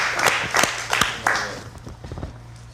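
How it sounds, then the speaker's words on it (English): A person claps their hands several times in quick succession at an indoor talk, sharp close claps fading into murmuring. "I'm gonna clap, because goddamn."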